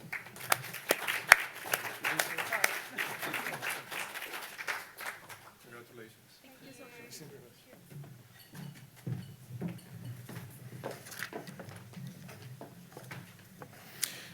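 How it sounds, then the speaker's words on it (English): An audience applauds award winners at the Cliff Bellamy Awards 2023 ceremony. Dense clapping fills the first six seconds, then thins to scattered claps under ongoing talk. "But a big applause to the award winners"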